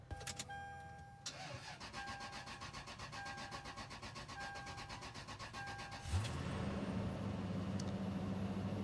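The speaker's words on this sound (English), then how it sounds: "that was the roughest start I've ever had in this vehicle, but it's running" A Lexus GX470 with a faulty alternator chimes and clicks as the key turns, cranks briefly and roughly, then catches at about six seconds and settles into a steady, fairly quiet idle.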